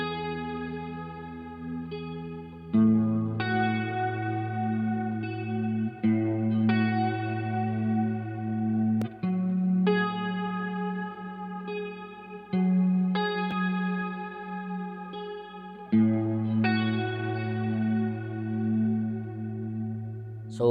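Electric guitar played through a compact M-Vave pedalboard patch with cloud reverb set to a heavy mix, sustained chords and notes swelling into a lush, washed-out ambient tail, solo with no talk.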